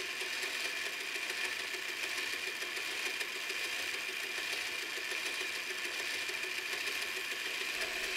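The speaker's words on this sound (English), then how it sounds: "So I took a small stone and ground the spindle to the right dimensions." A mini lathe spindle is ground down with a small stone, a steady high-pitched whirring hiss from the spinning spindle and abrasive contact, continuous and fairly loud from start to end with no speech.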